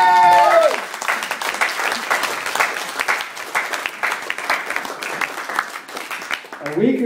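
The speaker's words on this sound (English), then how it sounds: "So please give her a round of applause." An audience at a birthday event applauds in a sustained round of clapping, moderately loud and even, with a brief voice at the start and another at the end.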